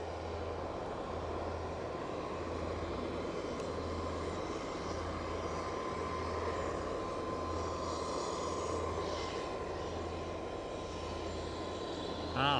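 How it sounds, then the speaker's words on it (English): A business jet's auxiliary power unit runs at an airport, giving a steady distant whine over a low, rumbling drone that persists throughout at moderate loudness, with no speech. "I can hear a perpetual whine in the background. Kind of thinking it might be the APU for that BizJet."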